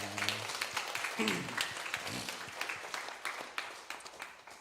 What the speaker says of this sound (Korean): 우리 박수로 다시 한번 격려하겠습니다